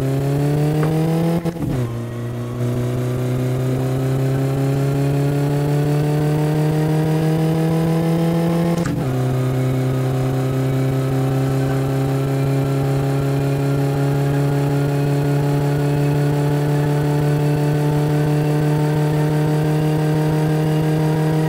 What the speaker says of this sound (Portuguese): bora dar um rolê com o carro, mano, pra vocês sentirem o que é 10 mil RPM